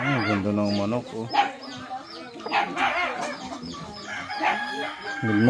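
Chickens clucking and a rooster crowing nearby, busy and continuous, with a voice briefly heard among them.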